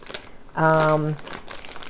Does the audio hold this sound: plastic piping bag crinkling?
yes